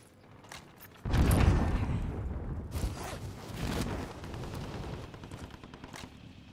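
Video game gunfire erupts in a sudden loud burst of rapid shots, then continues as a dense, sustained rattle of fire that slowly eases off.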